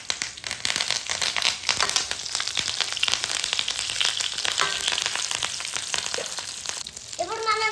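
Curry leaves frying in hot oil for a brinjal curry, a busy continuous sizzle and crackle with occasional stirring, close and fairly loud, with brief voice sounds near the end.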